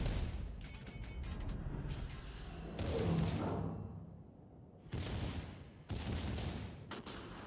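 Rear turrets of a warship fire in World of Warships, heard as several faint, separate booming bursts spread across the few seconds with quiet gaps between them.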